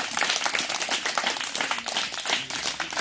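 A congregation claps to acclaim God during a church gathering, a dense continuous patter of many hands, fairly loud and unbroken throughout.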